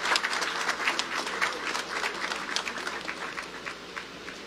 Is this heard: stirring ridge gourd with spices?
no